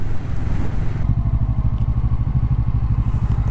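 A Kawasaki Vulcan S motorcycle engine runs close by with a steady, throbbing low-pitched pulse and rapid even beats, loud and continuous with no talk over it.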